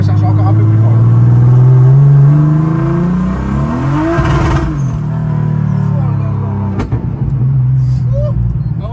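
A turbocharged BMW E36 engine on high boost revs hard and climbs in pitch as it accelerates, with a turbo whine and a brief shift around the middle, loud and close.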